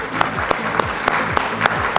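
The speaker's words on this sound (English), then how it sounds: "A big round of applause to Pankaj ji for his wonderful contribution in the panel session" An audience at an Indian panel discussion on insurers and a sustainable future applauds a panelist, with steady, rhythmic claps about three a second over a dense wash of room noise.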